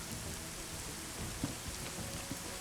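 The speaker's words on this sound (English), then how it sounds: "The rain's on" Steady rain in a video game, a dense continuous hiss with scattered patter of drops, uniform and unbroken throughout, with no voices.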